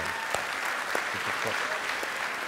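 A comedy show audience applauds the couples in the hall, steady crowd clapping that sounds fairly distant and even, with a faint voice over it.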